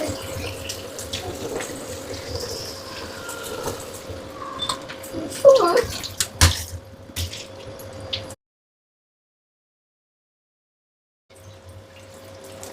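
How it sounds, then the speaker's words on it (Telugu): Water runs from a tap into a bundle of water balloons being filled for Holi, a continuous splashing rush with drips and squishy bursts, then a stretch of silence before the running water resumes. "మనం వాటర్ ఫిల్ చేశాక దాని మట్టుగా అవే మనకి వాటర్ బెలూన్స్ కిందకు వచ్చేస్తాయండి"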